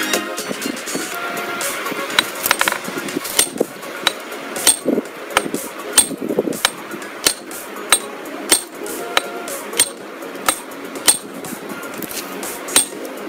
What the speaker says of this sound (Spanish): le he dado varios golpes y solamente he llegado a hacer esto